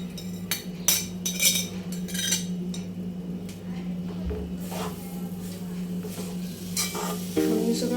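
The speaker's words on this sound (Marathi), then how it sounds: "हे सगळं आपल्याला गॅस स्लो करूनच परतून घ्यायचं आहे" Grated fresh coconut and jaggery sautéed over low heat for ukadiche modak, with a constant gentle sizzle, a low steady hum and repeated close scraping and clinking of a spoon against the pan.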